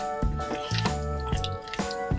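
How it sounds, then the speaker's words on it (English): A spoon stirs peanuts and basil leaves into a pot of Massaman beef curry, making soft wet squishes and light clinks in an irregular rhythm, close up over faint background music. "About 4 tablespoons of peanut into the pot, and then half of the basil leaves. Next, stir it well."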